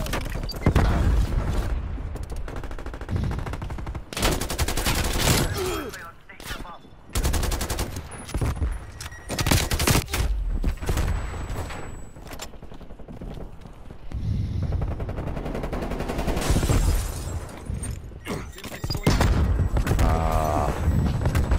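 Rapid bursts of gunfire from several different weapons in Call of Duty Cold War, loud and close: dense automatic fire broken by short pauses and single shots, with mechanical clicks of reloading and weapon handling.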